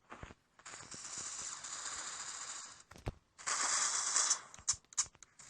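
Rapid bursts of automatic gunfire from the first-person shooter C-OPS, a long sustained volley followed after a brief pause by a second loud stretch and a few short trailing shots.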